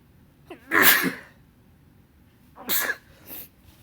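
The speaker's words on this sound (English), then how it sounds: "I apologize for the sneezes again" Two loud, nearby sneezes with audible inhales before them, the second followed by a smaller sneeze, separated by a quiet pause.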